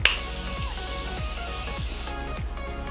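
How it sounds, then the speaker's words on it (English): Repeated short hissing pumps of a Morphe makeup setting spray bottle, close-up, several quick sprays in a row with a faint click at the start. "I'm gonna use the Morphe setting spray."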